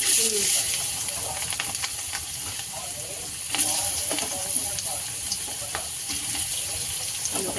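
Potatoes dropped into hot oil for a rohu fish curry with ridge gourd hiss and sizzle steadily in the pan, a close bright crackle throughout, with light kitchen clatter and no clear talk.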